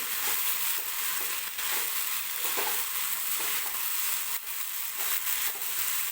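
Chopped spring onion greens fry and get stirred in hot oil in a kadhai, a continuous close sizzle with scraping stir strokes throughout and no talking.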